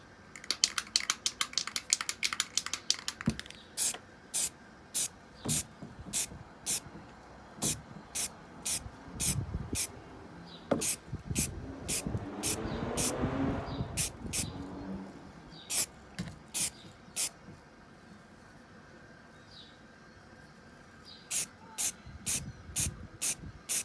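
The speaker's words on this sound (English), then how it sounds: "So I'm now going to spray it with filler primer." Aerosol filler primer sprayed onto an Emperor Dalek model kit in repeated short bursts, crisp close hisses in a steady rhythm, with a longer spray and a few handling knocks midway.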